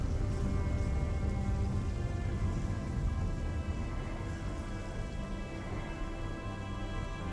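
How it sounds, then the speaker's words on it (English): Steady rain falls on a Martian colony in the game Surviving Mars, a constant low wash of noise, moderately loud and unbroken, with a faint droning hum beneath. "what you are seeing is not toxic rain. This is pure rain."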